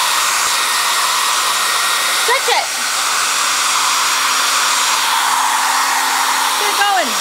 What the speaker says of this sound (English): grab your hair dryer